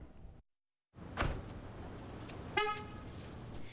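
Car horn chirps briefly as a car is locked, a short honk standing out over steady background noise after a moment of silence.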